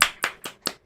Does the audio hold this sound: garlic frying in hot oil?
no